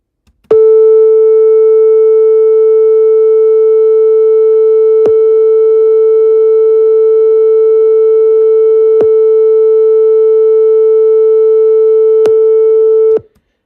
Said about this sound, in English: I'm going to generate a 441 sine wave